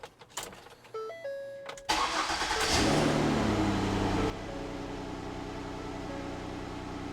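After an exhaust gasket repair, a car engine cranks with a few short starter whirs, catches and revs up loudly for a couple of seconds, then settles into a steady, even idle.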